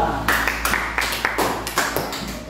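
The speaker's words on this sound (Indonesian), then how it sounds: "Tepuk tangan untuk kelompok 2" Students in a classroom clap for a group, a short run of distinct, closely spaced hand claps, fairly near and alone without talk over them.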